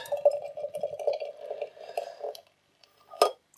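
Gluten-free IPA poured into a glass: a steady gurgling pour for a couple of seconds, a short quiet gap, then a single bright glass clink.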